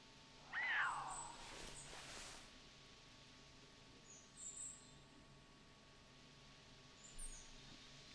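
A puma call in the wild, a single short, sharp cry standing out near the start against a quiet outdoor background, followed by a couple of fainter distant chirps.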